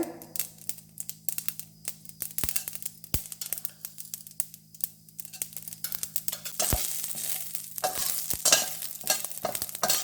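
Mustard seeds and urad dal frying in oil, a rapid crackle of popping seeds and sizzle close up, with several sharp ticks and a denser hiss building toward the end, no speech.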